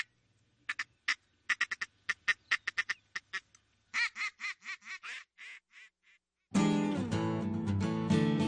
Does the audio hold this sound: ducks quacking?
yes